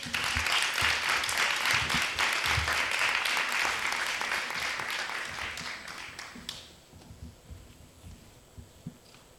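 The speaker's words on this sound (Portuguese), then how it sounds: "Uma salva de palmas." Audience applause at a literary panel session, a dense sustained clapping that fills the room for about six seconds, then thins out into scattered claps before fading away.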